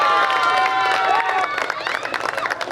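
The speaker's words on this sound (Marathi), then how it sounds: "आमच्या समोरच्या सेक्शन मधून खूप टाळ्या होत आहेत, कारण स्वप्नीलचे समर्थक खूप आहे" Applause and cheering from a crowd of supporters at a prize distribution for a truck competition, a busy clapping and crowd murmur that swells and carries on while someone speaks over a loudspeaker.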